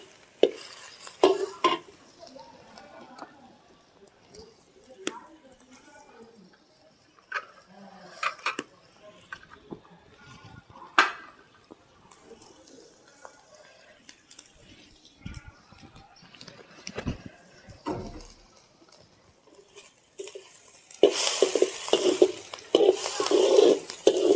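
Onions and grated cauliflower cooking in a pan for cauliflower parathas, heard as soft stirring scrapes and knocks, then a louder steady sizzle near the end as the vegetables go in.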